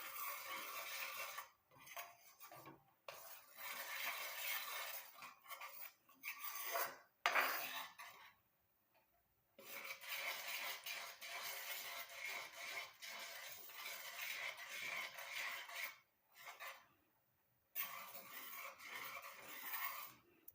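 Henna powder paste is stirred in a bowl, giving soft repeated scraping and rubbing strokes in quiet stretches broken by brief pauses, close and gentle, with no speech.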